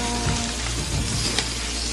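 Food frying in a hot pan, a loud, dense, continuous sizzle with light crackling throughout.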